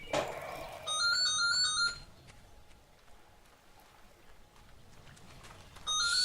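A phone rings in the Xbox One game Fable Anniversary: a bright electronic ringtone burst repeats briefly, falls away to quiet ambience, then starts ringing again at the end.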